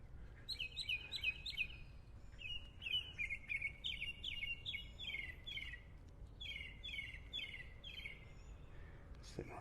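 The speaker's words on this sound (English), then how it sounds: "Listen to the birds." Several birds chirp and trill in quick repeated phrases above steady low background rumble, heard during a morning walk on Vanderbilt Beach in North Naples, Florida, near a sidewalk where one bird sits singing.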